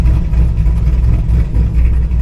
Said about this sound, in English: right now it's idling way better